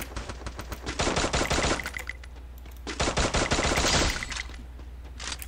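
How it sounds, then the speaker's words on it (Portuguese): Bursts of automatic gunfire in the battle-royale game Free Fire, two dense rapid-fire volleys separated by a short pause, loud and close with sharp repeated cracks. "Tem um doido atirando ali."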